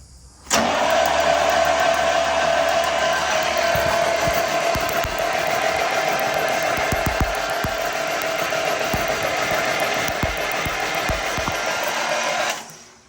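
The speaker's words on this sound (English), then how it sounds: "So I'm going to turn the starter" A Fiat 411Rb tractor engine catches after cranking and runs steadily and loudly close by for about twelve seconds, then cuts off abruptly.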